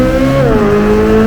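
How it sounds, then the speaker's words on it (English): A C8 Corvette Z06 engine swells and blips as it downshifts in Z mode, a loud close harmonic roar whose pitch drops, then holds steady in the cabin. "Z mode, downshift,"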